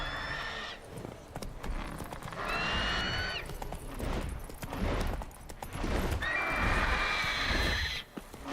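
Roach, the horse in The Witcher 3, gallops and whinnies repeatedly in the game, with several high neighs over steady rumbling hooves and busy background sound.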